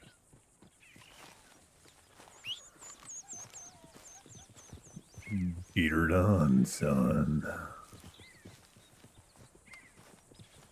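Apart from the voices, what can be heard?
horse hooves clip-clopping and whinnying in Red Dead Redemption 2 video game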